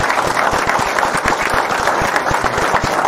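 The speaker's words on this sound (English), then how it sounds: "Please give our veterans a round of applause" A political rally crowd in Alpena, Michigan applauds veterans, continuous close clapping with distinct individual claps standing out over the dense, even wash of hands.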